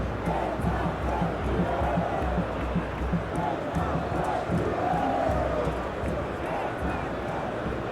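Stadium crowd in the eFootball PES 2021 video game, a capacity crowd at a simulated World Cup final, roaring and chanting as a steady dense wall of noise with a commentator talking over it.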